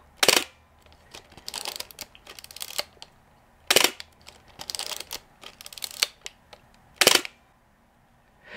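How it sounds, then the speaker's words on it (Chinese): A Pentax 67 medium-format film camera fires its loud shutter and mirror, several sharp mechanical clacks spaced a few seconds apart, up close, with quieter clicks of winding and handling between them. "反正我个人是很喜欢这个快门的声音的"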